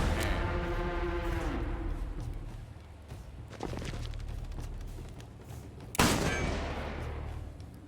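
Gunshots ricocheting in the turn-based western game Hard West 2: a few sharp reports, some ringing tails, and a loud crack near the end over a low rumbling bed.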